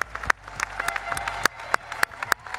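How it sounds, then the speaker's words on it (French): Scattered clapping at a pastry world cup prize ceremony, a sparse, uneven patter of individual hand claps with sharp isolated smacks standing out over a low room murmur. "Un tonnerre d'applaudissements pour les candidats."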